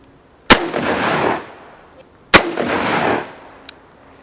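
Two loud .357 Magnum gunshots fired into bread, each a sharp, close crack followed by a long, rolling outdoor echo, roughly two seconds apart, with a faint click afterward.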